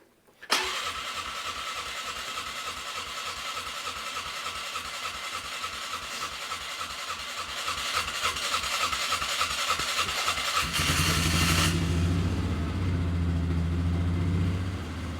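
An old cold-blooded vehicle engine with a dry carburetor cranks with a fast rhythmic churn for about ten seconds after the choke is pulled, then catches and settles into a steady, lumpy idle nearby.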